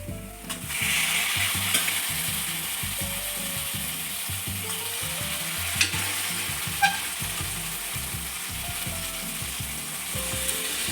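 Cooked mutton goes into roasted masala in a pan, a steady loud sizzle running throughout with repeated scraping stirs of a spoon against the metal and a couple of sharp clinks, no voices.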